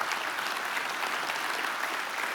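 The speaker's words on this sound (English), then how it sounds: "You can clap." Congregation applause at a church service, a steady, moderately quiet patter of many hands clapping, continuous and even throughout without voices.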